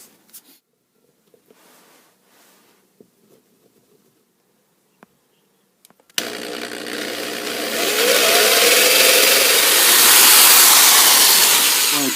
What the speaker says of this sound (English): I'm going to drill in the handle